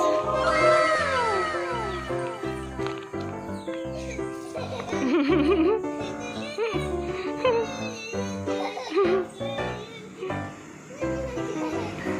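A cat in a home meows repeatedly, with drawn-out, wavering cries mixed among the excited voices and squeals of small twin toddlers tussling with it.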